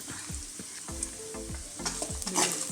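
Ginger, cloves and cardamom fry in a pan for a chicken and potato curry, giving a soft continuous sizzle under repeated scraping and stirring strokes of a spoon, each stroke a low rubbing drag.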